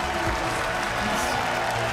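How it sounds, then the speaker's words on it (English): Steady applause from a large crowd at the 2015 League of Legends World Championship, continuous and fairly loud throughout, with a general murmur of the audience underneath. "And there's the applause for Dyrus."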